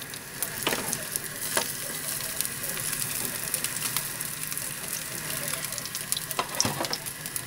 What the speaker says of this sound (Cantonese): 慢慢煎佢，煎翻咁上下呢，就等佢定咗型呢